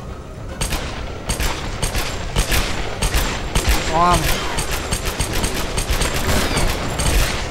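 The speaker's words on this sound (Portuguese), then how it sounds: "Ele tomando tiro na cara direto." Gunfire in the video game Tomb Raider: rapid bursts of sharp gunshots crackling in quick succession throughout, loud and close, with a voice briefly speaking over the shooting.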